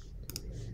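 A single faint computer mouse click comes through, a quick double tick against low background hum.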